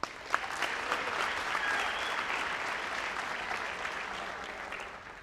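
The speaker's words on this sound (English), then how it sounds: "So please give Laney Carroll a warm round of applause." An audience applauds a speaker at a youth football club's commitment event, sustained clapping that swells slightly and then holds steady throughout, with no talking over it.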